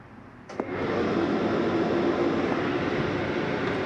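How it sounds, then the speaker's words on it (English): A furnace heater in a 2023 Flagstaff Microlite 22FBS travel trailer kicks on with a brief click, then settles into a steady, loud rushing roar of blowing air that holds without a break. "it takes a few minutes for the furnace to cycle through before it actually shuts off"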